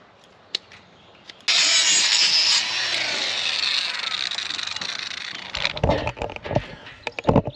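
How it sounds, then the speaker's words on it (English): A new power trimmer grinding an animal's hoof, a loud steady buzzing rasp that starts abruptly and runs several seconds before breaking into choppy clattering. "Now, this might be a job for this new trimmer."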